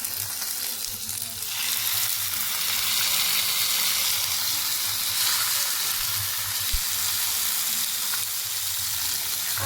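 Hilsa fish pieces fry in hot mustard oil in a pan, giving a loud, steady, dense sizzle and crackle that holds unbroken for several seconds.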